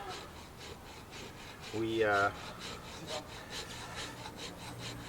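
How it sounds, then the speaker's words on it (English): A bushcraft knife scrapes wood into fine dust for lighting a fire, making close, rhythmic rasping strokes repeated steadily, with a brief squeaky tonal rise midway. "scrape my wood to make some dust, because it's easier to light"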